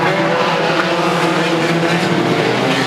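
National banger racing cars pulling away at the start of a heavy banger race, a dense, loud roar of many engines with tyre noise, sustained throughout with no break.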